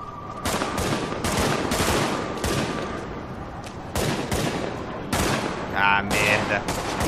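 Video game gunfire in The Division: rapid bursts crack repeatedly in clusters, loud and close, with a voice briefly heard among the shots.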